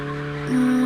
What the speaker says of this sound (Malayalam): ഇത് അപ്പ് ഹില്ല് ഡ്രിഫ്റ്റ് ചെയ്ത് കയറാം.